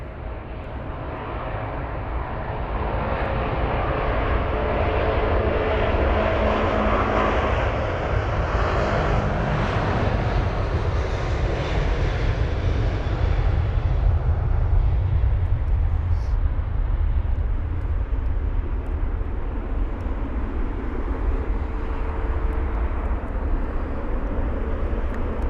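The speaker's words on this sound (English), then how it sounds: "The American 777 on the move now as well." An American Airlines Boeing 777-200ER taxis at London Heathrow, its engines giving a loud, steady roar and rumble that swells gently and holds throughout at close range.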